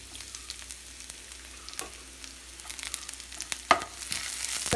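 Garlic cloves frying with chana dal in coconut oil, a steady close sizzle with scattered crackles and a few sharper pops, no voices.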